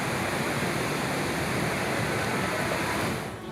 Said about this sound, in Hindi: देश की राजधानी दिल्ली में लगातार हो रही बारिश ने हालात बद से बदतर कर दिए हैं।